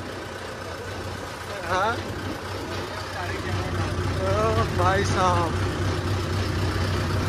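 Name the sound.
tractor engine idling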